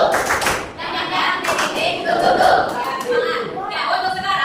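Group of students clapping together in a rhythmic spirit clap during an Indonesian classroom lesson, a dense run of hand claps and thumps throughout, loud and close, with voices mixed in.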